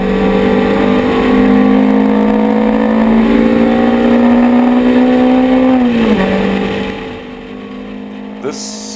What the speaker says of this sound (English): This is a Ford Sierra,